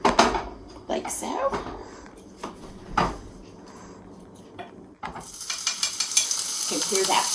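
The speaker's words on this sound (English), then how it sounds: "French fried chicken. Hear that sizzle?" Chicken sizzles in hot oil in a pan for a pot pie. Cooking clatters and a voice come first, then a bright, steady frying hiss swells and grows louder toward the end.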